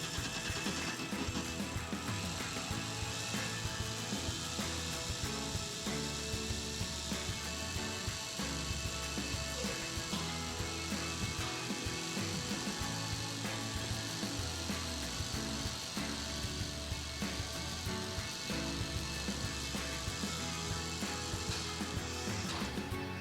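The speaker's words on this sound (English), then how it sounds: "Drill the hole for this extra rivet very slowly." A power drill slowly boring a hole for an expansion rivet in a pop-up camper during a roof brace install, a steady grinding whine that runs continuously for over twenty seconds with slight shifts in pitch and load.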